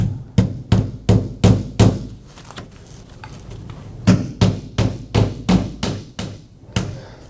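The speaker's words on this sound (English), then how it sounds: "I'm going to nail through the shiplap to give this a hidden fastener look." Hammer driving nails through vintage shiplap boards, two close bursts of sharp, evenly spaced blows, five or six strikes each, separated by a short pause.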